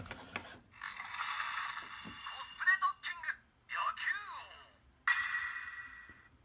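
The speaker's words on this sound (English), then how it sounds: "it's basically saying compatibility Yakuo, but in Kuwagattan's voice" A high, warbling electronic voice from a DX Kuwagattan toy robot chirps and bends in short bursts with brief gaps, loud and close, over a steady synthetic hum.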